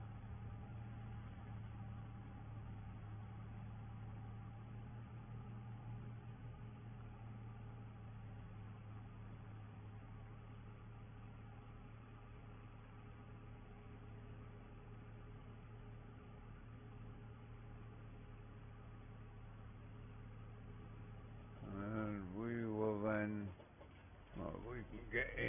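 A New Holland tractor with dual wheels fitted at the back drives up a hill, its engine holding a steady, droning hum with a constant low rumble. Near the end, a brief warbling sound briefly rises over the engine.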